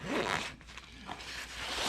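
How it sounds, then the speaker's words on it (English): Zipper on the side pocket of an LED turn-signal backpack, pulled in a few quick close-up strokes with brief pauses between them. "2 side zips here."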